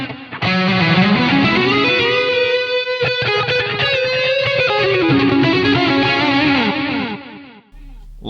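Heavily distorted electric guitar played through an Axe-Fx III amp preset, sustained chords and bending melodic lines with chorus-like effects, loud and continuous for about seven seconds before cutting off.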